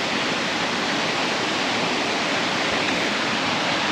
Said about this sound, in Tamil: ஒரு சின்ன ஃபால்ஸ் இருக்கு